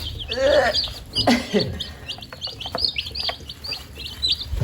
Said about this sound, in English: We have our 26 Cornish Cross, then one mystery chicken.